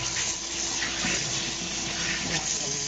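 Running water from a tap while a pan is washed, a steady close gushing and splashing with faint irregular clatter, continuous throughout.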